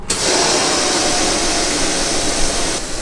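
A fire suppression system discharges into the engine bay of a Dodge Viper ACR-X, a loud, close, continuous rushing hiss that starts abruptly and holds steady for a few seconds before cutting off.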